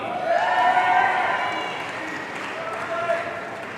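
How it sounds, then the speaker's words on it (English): Applause and crowd noise for Master of Urban Planning graduates at a university commencement ceremony, a loud sustained wash with voices and cheers rising over it, easing slightly toward the end. "Let's give a round of applause to the Master of Urban Planning graduates."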